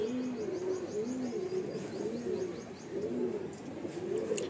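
A female pigeon coos in a soft, repeated rhythmic pattern, close and steady, with a faint high chirp in the background.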